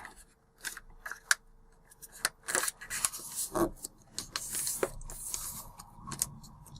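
A double sheet of school notebook paper being folded in half by hand, a string of soft crinkles, rustles and sharp creasing snaps, close and fairly quiet.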